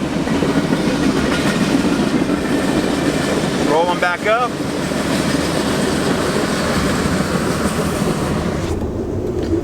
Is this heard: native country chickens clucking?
no